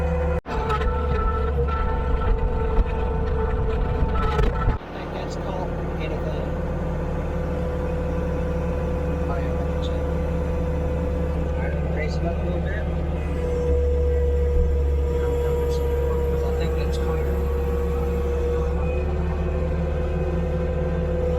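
A skid steer engine drones low and steady while moving a machine, and the rumble drops to a quieter idle-like hum partway through.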